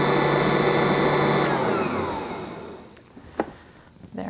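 An electric stand mixer with a wire whisk beating almond orange fruit cake batter with the lid on, a loud steady motor whir that spins down and stops midway, followed by a few clatters and quiet handling noises.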